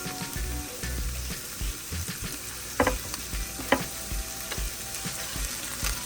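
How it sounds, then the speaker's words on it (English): Onion, minced scotch bonnet pepper and crushed pimento berries sautéing in a pan for ackee and saltfish, a soft continuous sizzle with occasional sharper stirring clinks, fairly quiet and without talk. "we're going to saute these ingredients for about 30 seconds"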